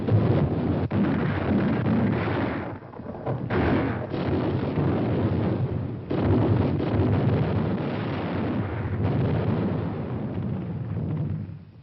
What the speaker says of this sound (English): where they could secure some protection from the heavy Jap naval gunfire